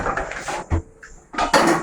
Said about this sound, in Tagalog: Naghuhugas na siya.